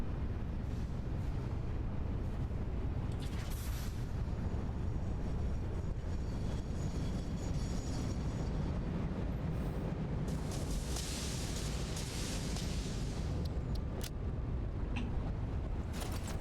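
Trains in the video game Satisfactory rumble by in a continuous, steady roar that holds at an even level throughout, with some brighter hissing bursts midway and no talk.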